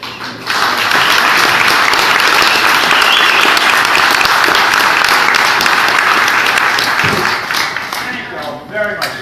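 An audience breaks into loud, sustained applause welcoming Louisiana Governor Bobby Jindal at Smokey Row, a dense wash of many clapping hands that holds strong for about eight seconds before thinning out.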